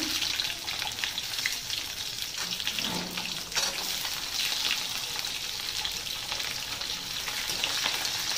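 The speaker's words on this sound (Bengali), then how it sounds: "কড়াটা গরম হয়ে গেছে, দিয়ে দেবো 5 ফোড়ন, তেজপাতা, গোটা রসুন" Panch phoron, bay leaf and whole garlic cloves frying in a hot kadai, a dense, steady crackling sizzle with fine spattering pops, close and continuous.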